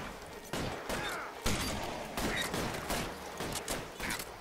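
Dense, continuous gunfire from a video game shootout at a bank, with overlapping shots and bursts at steady loudness throughout.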